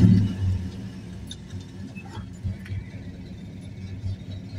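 A balanced 383 V8 engine in a 1968 Dodge Dart GTS idles with a low, smooth, steady rumble, close by, with a slight burble and no voices.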